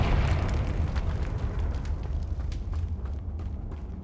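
A loud, rumbling burst from the Confringo fire spell in Hogwarts Legacy, a dense roaring blast that stays strong and slowly thins out over a few seconds, with no voices.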